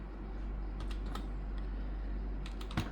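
Commands typed on a laptop keyboard during a Windows disk partition cleanup: sparse, close key taps with a few louder strikes, over a steady low hum.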